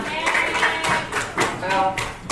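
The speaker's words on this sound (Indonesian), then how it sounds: "Tepuk tangan." Students in a classroom clap together in a loose burst of clapping with a few stronger accents, while voices and chatter can be heard underneath.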